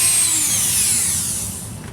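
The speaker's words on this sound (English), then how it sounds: "I'm going to use a 1/4-inch drill bit" Power drill with a 1/4-inch bit boring through a bass drum part, a loud steady whine that slowly drops in pitch as the bit bites in, heard alone.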